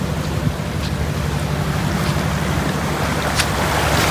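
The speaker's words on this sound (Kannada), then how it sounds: "ಇಲ್ಲಿ ನೀರು ಫೋರ್ಸ್ ಕಾಣಿ" Heavy monsoon floodwater in Udupi district rushes with force past a collapsed dam, a dense, continuous roar filling the scene close by, with no voices heard.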